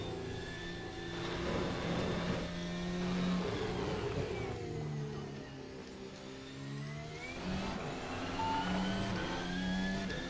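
F1 car in F1 2025 lapping the United States Grand Prix circuit, a loud high-revving engine climbing through gears and dropping for corners, continuous and close, no talk.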